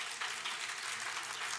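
An audience applauding in a lecture hall, a dense, steady patter of many hands clapping at moderate volume throughout, with no voices on top.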